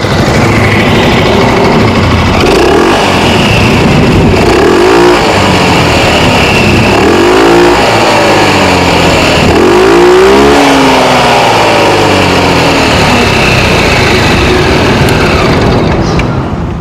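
A QJMOTOR ATX 250X 250cc adventure scooter engine revs repeatedly up and down, several rising and falling throttle blips over a steady idle, loud and close.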